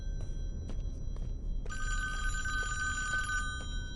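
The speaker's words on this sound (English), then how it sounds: "I think the phone's ringing again" A telephone in a Friday the 13th video game cabin rings in a steady, bright electronic trill that starts partway through over a low background hum, with faint clicks before it.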